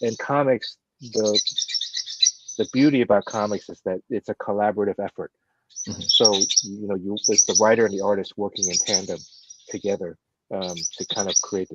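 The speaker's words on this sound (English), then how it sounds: "Excuse my birds." Small birds chirp and tweet steadily in the background while a person talks continuously in the foreground.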